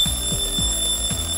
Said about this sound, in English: It's the alarm!